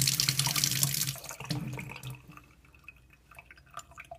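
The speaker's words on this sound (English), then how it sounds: "I'm going to give it a rinse under some tap water." Tap water runs into a sink as a 1997 Honda Civic DX idle air control valve is rinsed after soaking in lemon juice, a close splashing gush that fades into scattered drips and trickles.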